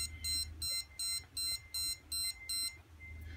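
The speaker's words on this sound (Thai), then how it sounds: "ฟิล์มหมดจะมีเสียงนี้นะฮะ" Canon AF35ML compact film camera beeping to signal the film has run out: seven short, evenly spaced high-pitched electronic beeps in a steady rhythm, close and clear over a low background hum.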